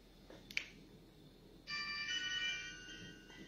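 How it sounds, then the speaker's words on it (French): A telephone starts ringing with a bright warbling electronic ringtone that continues steadily over low background noise, preceded by a faint sharp click. "Il y a un téléphone qui sonne."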